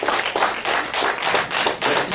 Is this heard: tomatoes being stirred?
no